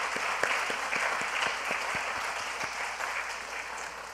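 A church congregation claps in thanks after a service announcement, a steady, moderately distant wash of many hands with a few sharper individual claps standing out, continuing evenly throughout.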